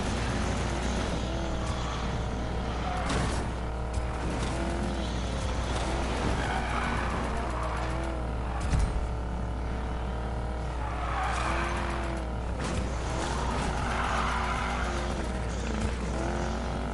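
A Bel Air car with a lightweight chassis in a PS4 racing game: a steady engine roar runs throughout, with repeated tire squeals and skids rising over it, loud and close.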